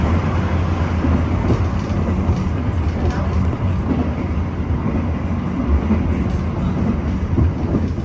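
A Tegal Bahari passenger train rolls steadily along the rails with a constant low rumble and faint rhythmic clatter, heard from inside.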